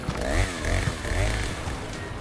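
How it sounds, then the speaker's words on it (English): A chainsaw revs loud and close in the video game Resident Evil 4 Remake, its engine whining and surging in short rising bursts. "Oh, there's the chainsaw guy."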